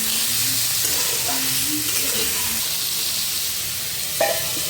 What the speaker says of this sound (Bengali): কিছুটা নুন এবং হলুদ গুঁড়ো দিয়ে আলুটাকে ভেজে নেবেন